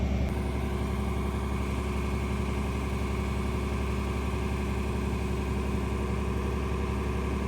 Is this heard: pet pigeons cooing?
no